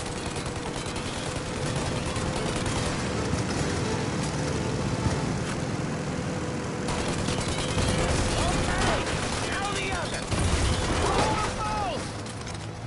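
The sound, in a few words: gunfire in the Mafia: Definitive Edition video game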